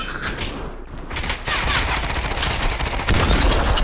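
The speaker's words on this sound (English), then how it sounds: "That was such a violent shot." Gunfire in the VR shooter Population: One, with sharp broadband blasts and a loud burst near the end over steady game ambience, along with mechanical clicks and rattles.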